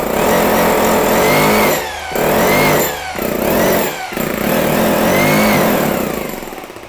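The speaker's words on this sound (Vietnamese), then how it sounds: "Nghe tiếng búa đã nha anh em." Hammer drill running in hammer mode, a loud continuous rattling drone cut by three short pauses as the trigger is released and squeezed again.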